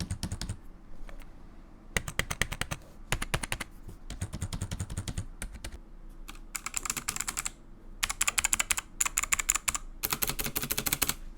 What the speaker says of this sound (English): you can see the test of this thing next to a blue switches keyboard